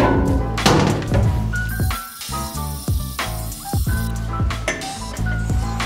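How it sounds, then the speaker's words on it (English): Water sprays and splashes against a screen printing screen while it is washed out, with gurgling flow, a few dull thunks and dripping in a steady, close wet wash with no talk. "Okay, wash out the screen."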